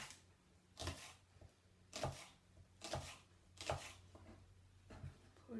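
A knife cutting green onions into little slices on a board, six crisp chopping strokes spaced roughly a second apart, quiet and close with no talking.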